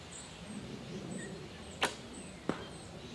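An arrow leaves a Black Hunter special edition bow with a sharp snap, then a second quick crack follows about half a second later. Both are faint and distant over steady outdoor background noise.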